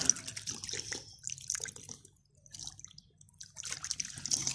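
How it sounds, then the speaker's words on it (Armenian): Water splashes and trickles from an Armenian pulpulak, a public street drinking fountain, as a soft, uneven patter that fades briefly mid-clip before returning, with no one talking. "այս պուլպուլակներին, նույն ինքը ցայտ աղբյուր"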